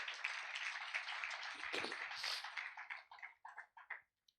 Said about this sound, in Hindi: जोरदार ताली बजाकर उस परमेश्वर को धन्यवाद करें